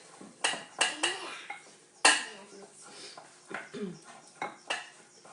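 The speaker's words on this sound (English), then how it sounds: "Mix with your wooden spoon or mix with your metal spoon, whichever one you have." A spoon scrapes and clinks around a bowl while cake batter is mixed, irregular close knocks and scrapes that come in bursts with quiet gaps.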